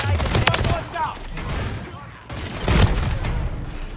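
Gunfire in Modern Warfare III: several heavy, booming shots in close succession with rumbling echoes, mixed with other game noise and talk.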